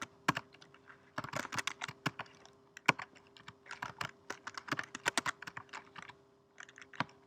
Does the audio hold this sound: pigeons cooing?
no